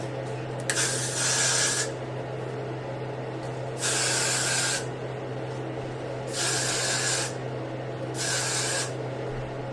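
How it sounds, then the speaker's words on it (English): Four short hissing sprays from an aerosol can of Got2b hair spray onto hair, each lasting about a second, close to the microphone over a low steady hum. "I want to spray some Got To Be on my hair before I put my cap on."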